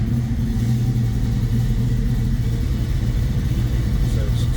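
A 1967 Ford Mustang Coupe with an EFI system idles nearby, a loud, steady low rumble with a deep, even throb throughout and no rise in revs.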